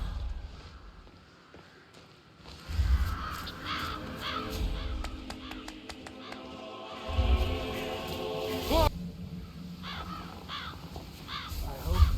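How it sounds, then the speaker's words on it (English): Crows caw near their nests in the Hitman 3 video game, a run of harsh calls in bursts against a busy game ambience with low thumps and scattered tapping. "Damn birds. If I could just get a clear hit on those nests."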